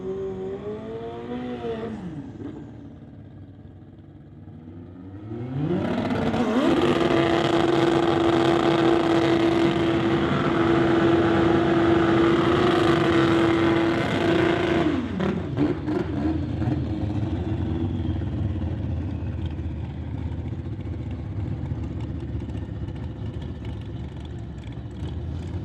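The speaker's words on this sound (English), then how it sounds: "First round of motorcycle testing here in this one." A 2022 Suzuki Hayabusa motorcycle on a drag strip test run, its engine loud and close, rising in a steady high rev for several seconds as it launches and pulls away, then fading into a lower rumble.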